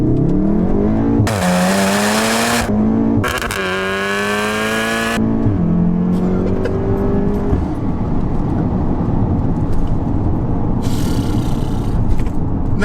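A 600 BHP methanol-injected Golf R accelerates hard, its engine rising loudly through the gears and hitting the rev limiter, with sharp roaring upshifts early on, then a steadier drone as it pulls away.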